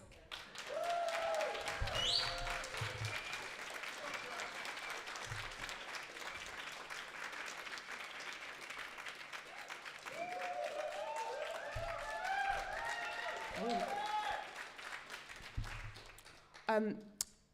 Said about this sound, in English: please put your claps together for Ray Wright.